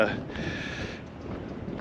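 Rough, gusty wind buffets the microphone in a constant low roar, with a faint tonal hum in the first second.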